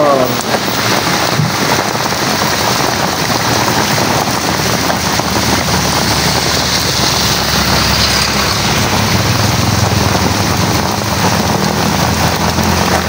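A loud, constant downpour drums beside a green tricycle at a street vending stall, thick, close hiss with scattered splatters holding steady throughout.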